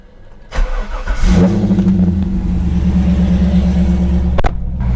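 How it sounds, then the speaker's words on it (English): A C5 Corvette's engine cranks and fires up, rising into a loud, steady idle with a deep rumble, then a sharp click near the end, with no talk heard. "Let's go ahead and start the car and see what happens."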